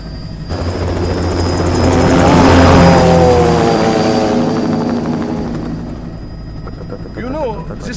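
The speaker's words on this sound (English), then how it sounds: "Commencing takeoff in semi-auto mode." A helicopter takes off in the video game Metal Gear Rising, rotor and engine noise swelling to a loud peak and then easing, with a voice speaking over it.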